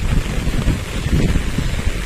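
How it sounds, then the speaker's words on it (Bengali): Strong wind from Cyclone Remal buffets the microphone in low, gusty rumbles in a chili field in Banshkhali, Chattogram, with a rushing hiss of rain beneath it. "প্রচুর পরিমাণে বাতাস, বৃষ্টিও হচ্ছে সাথে।"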